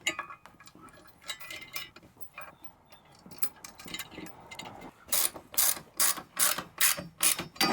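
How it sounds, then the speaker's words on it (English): Combo bolts being threaded by hand ratchet into a secondary support bracket on a rear truck bumper step, with light clicking at first, then a loud run of sharp, rhythmic ratchet clicks near the close. "We've got 2 more of these combo bolts, so we'll just thread them in."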